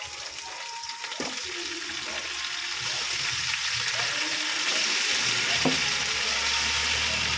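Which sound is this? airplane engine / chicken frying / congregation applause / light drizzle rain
chicken frying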